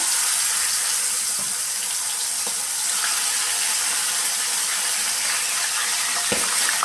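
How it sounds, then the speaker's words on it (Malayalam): Small crabs fry in hot boiling oil, giving a loud, steady, hissing sizzle that runs throughout with a few faint clicks and pops. "ഇവിടെ എൻ്റെ എണ്ണ നന്നായിട്ട് തിളച്ചിട്ടുണ്ട് അതിലേക്ക് നമുക്ക് ഞണ്ട് ഇട്ട് കൊടുക്കാം"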